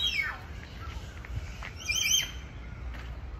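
Birds sing at Port Moresby Nature Park in Papua New Guinea, with faint, distant high chirps and a brief brighter call rising over steady outdoor ambience.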